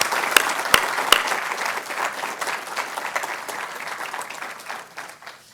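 Audience at a university lecture ceremony applauds, with several sharp individual claps early on, then steady clapping that gradually thins and fades toward the end.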